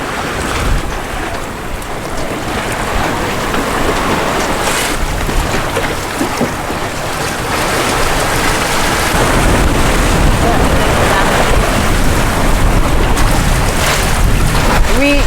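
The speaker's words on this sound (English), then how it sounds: "I'm absolutely loving the feeling of gliding downwind with the gentle swell pushing Odyssey onwards." A sailboat runs downwind on a gentle swell offshore near Whitby, with steady wind buffeting the microphone and continuous water wash along the hull that grows a little louder toward the end.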